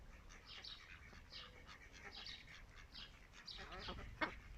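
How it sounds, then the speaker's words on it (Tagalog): Small ducks are fed outdoors on the Faroe Islands, giving a scatter of faint quacks and chirps with a brief sharper call near the end, under quiet talk and light background noise. "anim na piraso maliliit na duck"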